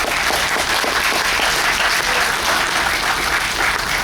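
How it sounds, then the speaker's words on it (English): Lecture audience at a birding talk gives sustained, even applause, a dense steady wash of clapping with no voices. "Ladies and gentlemen, I would like you to give yourselves a huge round of applause."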